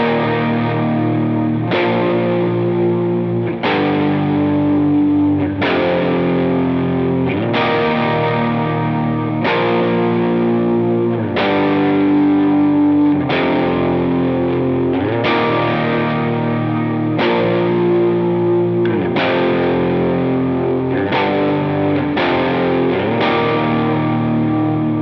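Lead electric guitar playing Amazing Grace with distortion and chorus effects, a melody of sustained, bending notes struck every couple of seconds, loud and steady with no voices.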